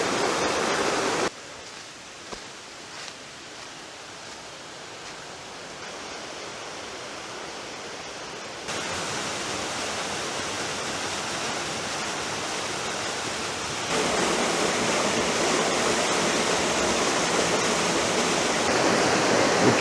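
Waterfall in the Fratarica gorge, a canyoning spot of falls and plunge pools: a steady, dense roar of falling water that stays constant and loud throughout, with no voices.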